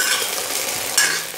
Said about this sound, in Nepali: यो चाहिँ भिन्डी है साथीहरू, लेडी फिङ्गर फ्राई गर्दैछु